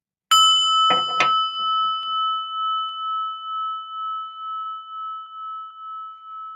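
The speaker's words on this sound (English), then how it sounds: "And a bell." A single bell strikes loudly and close, its bright ring sustaining and pulsing slowly as it fades over several seconds in otherwise quiet surroundings.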